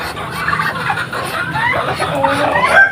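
Rhode Island chickens in a coop making busy, continuous clucking and squawking calls from several birds at once, fairly close and steady throughout.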